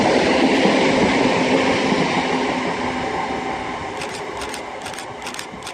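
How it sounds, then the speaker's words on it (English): A Class 319 passenger train bound for Liverpool Lime Street from Manchester Airport rolls past close by at Huyton, a steady loud rumble of wheels on rail with brief high clicks and squeals near the end. "passing by now is going to be a 319 for Liverpool Lime Street from Manchester Airport"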